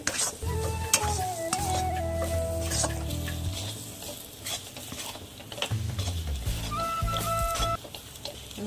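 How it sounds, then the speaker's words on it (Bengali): A spoon scrapes and stirs thickening semolina dough in a hot pan for homemade gulab jamun, a steady rasping and sizzling texture with occasional metallic clinks and a faint electronic whine running through it. "নাড়তে নাড়তে দেখুন শক্ত হয়ে আসছে।"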